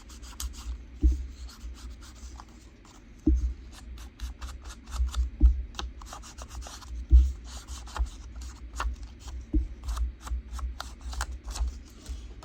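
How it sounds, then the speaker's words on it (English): Paper is inked by hand with a dark ink pad while making a bookmark, giving soft rubbing and dabbing scuffs broken by several dull taps at irregular intervals, close and fairly quiet. "I'm going to ink that while I'm at it"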